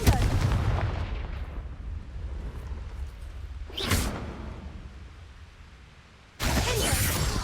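The Confringo fire spell in Hogwarts Legacy goes off as loud, close booming blasts, one at the start, a sharp burst near the middle and another heavy blast that rings on to the end, each fading into a rumbling tail.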